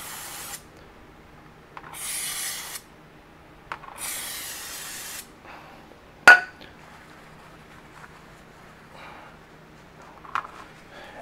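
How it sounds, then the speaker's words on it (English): Brake parts cleaner sprays from an aerosol can onto Jeep Rubicon 392 transfer case parts in two hissing bursts of about a second each, followed by a single sharp metallic clink and a few faint taps. "gonna take some brake parts cleaner"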